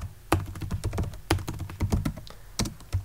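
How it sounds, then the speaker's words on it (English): Clicky computer keyboard keystrokes as a git command is typed, an irregular run of close taps with a few sharper, louder strokes standing out, no voice. "when I type git"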